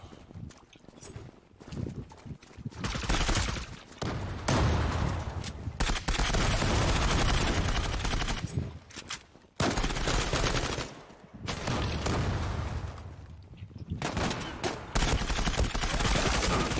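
Gunfire in the online shooter game Zula, with dense bursts of rapid automatic fire and long sustained volleys broken by short pauses, loud and close.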